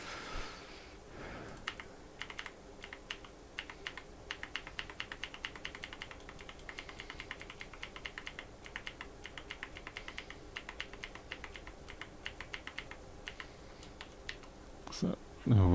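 A heavy computer keyboard clatters with rapid, irregular keystrokes in bursts for over a dozen seconds, fairly quiet and close, with a brief voice and a louder bump at the very end.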